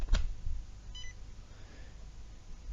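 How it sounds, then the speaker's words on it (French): RC radio transmitter gives a short electronic beep as the simulator cable is plugged in, one faint clear tone after a brief click, near and alone. "la radio va émettre un bip"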